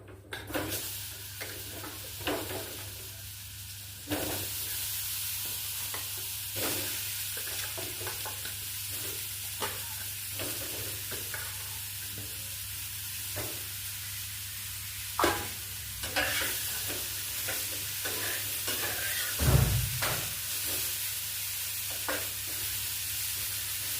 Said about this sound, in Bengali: পেঁপেটা একটু ভেজে নেবো।